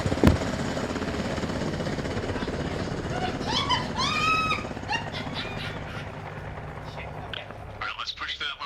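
A helicopter in the video game Arma Reforger keeps up a continuous rotor thrum beneath voices talking, with brief squeals and chirps and a sharp crack near the start.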